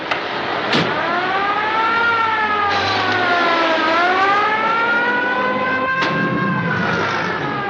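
Ambulance siren in a 1939 film scene: a loud, continuous wailing siren that rises and falls in long sweeps over the rumble of a car engine, with no voices.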